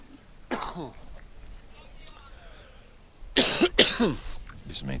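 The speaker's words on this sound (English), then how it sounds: "Excuse me, terrible cough today." A harsh cough near the start, then a louder burst of several rapid throat-clearing coughs, close and dry, during a cricket match commentary in dusty conditions in Bali.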